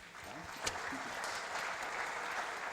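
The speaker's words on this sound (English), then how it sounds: "I would love to ask you to clap for everyone who took part in the presentations." Steady applause from a student entrepreneurship summit audience, an even wash of clapping that fills the stretch at moderate volume with faint voices underneath.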